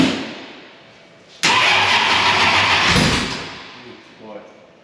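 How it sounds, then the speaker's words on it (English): A car engine that has turned over slowly for a year cranks sluggishly at its first start of the year, a loud sustained churning that fades after a few seconds, with voices nearby. "That car's turned slow for a year now."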